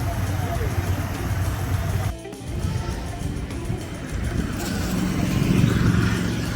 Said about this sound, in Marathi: गर्दी किती आहे ट्रॅफिक.